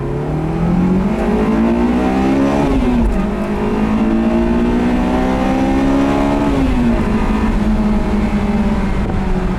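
A 2001 Honda S2000 AP1 sports car engine revs repeatedly, climbing to high rpm and dropping back, loud and close, with no voices.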